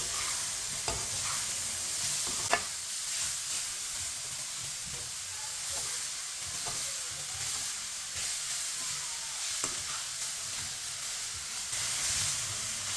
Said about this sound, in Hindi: गाजरें डाल लेंगे। अच्छी तरह मिक्स कर लेंगे।